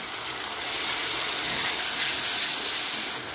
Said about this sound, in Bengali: এবার সামান্য জল দিয়ে দেবো